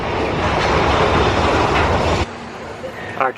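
A ride train at the Magic Kingdom rumbles and clatters loudly along the track, then the noise drops suddenly to a quieter hum with a brief squeal near the end.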